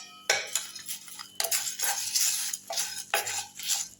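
Cumin, fennel and coriander spices being dry-roasted in a pan for mutton biryani, with repeated close scraping and rattling stirs of a metal spoon and only faint sizzle between them.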